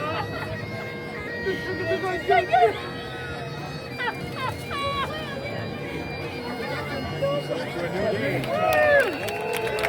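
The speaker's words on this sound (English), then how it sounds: "there was enough applause" Outdoor crowd in Key West with a murmur of chatter and scattered cheering and applause, swelling louder in bursts toward the end, with whistles and voices rising over the general hubbub.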